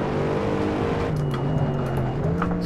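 A nose-heavy, high-torque modded car driven in the racing game Assetto Corsa, its engine droning loud and steady while the pitch shifts with revs, and brief tire squeal near the end.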